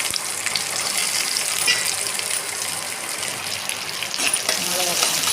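Onion sautés in sesame oil with cumin and dried red chillies in a pan, giving off a steady, dense sizzle that stays loud and close throughout, with occasional stirring scrapes and no clear talk.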